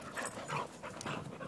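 Two big dogs play-fight up close outdoors, giving quick whimpers, yips and panting breaths in a short lively flurry, fairly quiet and without any talking.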